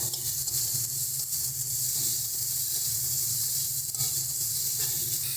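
Tomato stirred into spices in a hot pan for a homemade taro and prawn curry, giving a steady, loud sizzle with soft stirring scrapes, continuous and close, with no talking.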